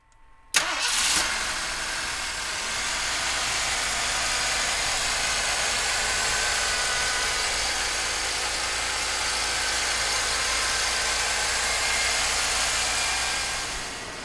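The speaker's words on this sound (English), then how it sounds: "So come on up and we'll fire it up for you right now." A 1980 Lincoln Continental Mark VI engine cranks and catches after a short silence, then settles into a steady, even idle that runs on close and unbroken for over ten seconds, with no talking.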